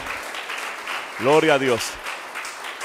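A church congregation claps steadily through a service while a voice rises loudly over the applause with a short shout of praise.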